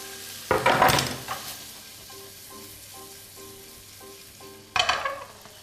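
Shrimp fry in a hot pan with a low, steady sizzle, broken by two louder bursts of stirring and scraping near the start and end.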